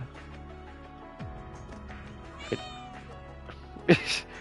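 A cat in the video game Tokyo Xanadu eX+ meows, a faint call standing out over quiet background music, then a louder, sharper meow near the end.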